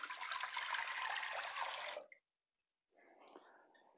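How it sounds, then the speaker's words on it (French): A litre of water poured into a cooking pot, a steady splashing stream for about two seconds that cuts off abruptly, followed by faint dripping and rattling in a quiet kitchen. "Je vais commencer très simplement par prendre ma marmite, y mettre dedans 1 litre d'eau"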